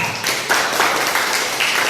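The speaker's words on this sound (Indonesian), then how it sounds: "Mari kita beri tepuk tangan untuk mereka." A burst of clapping from a small group, close and fairly loud, with individual claps audible in an uneven rhythm.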